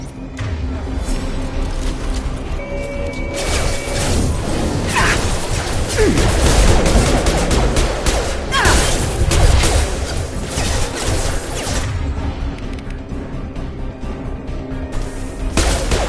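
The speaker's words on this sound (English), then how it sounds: "Here come the mechs. Use the grenade launcher to take them out." Grenade launcher fire against mechs in Mass Effect 2 on Insanity, dense repeated blasts and crashing impacts amid continuous gunfire and mechanical battle noise, loud and close, with brief voice chatter mixed in.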